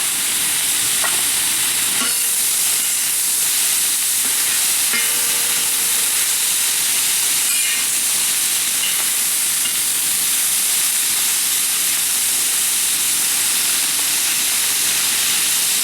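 A vegetable stir-fry with Swiss chard, green beans and peppers sizzles loudly in a large outdoor wok after lower-sodium soy sauce is added, a steady close hiss with faint clicks of stirring running throughout.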